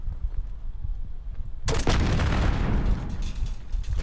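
A grenade bursts in a video game, a sudden loud blast that erupts mid-clip after a quieter stretch of background game noise and rumbles on afterward.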